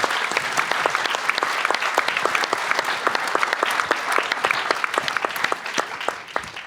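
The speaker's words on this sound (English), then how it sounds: "a round of applause for Shahd and Nadav, and of course Sally" Audience applause at an evening peace event, dense and steady clapping from a sizable crowd, loud and close, continuing throughout before tapering slightly at the end.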